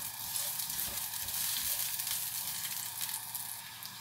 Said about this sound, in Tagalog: Mainit na ang ating mantika